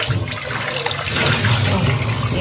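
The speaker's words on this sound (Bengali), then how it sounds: "গরম পানিটা দিয়েছি, বেসিনে দিব।" Hot water pours into a kitchen sink to flush out built-up grease, a steady, loud gushing splash running throughout without a break.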